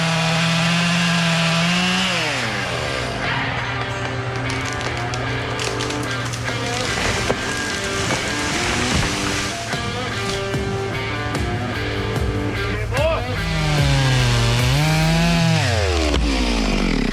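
Chainsaw cutting trees beside a pond dam, loud and close, revving up at the start, holding a steady whine through the cut and revving again near the end.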